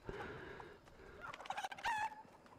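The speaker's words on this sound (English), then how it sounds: "Fuck off, chicken." A chicken in Fortnite clucks in short bursts, then gives a louder, drawn-out squawk near the end, heard fairly close against a quiet game background.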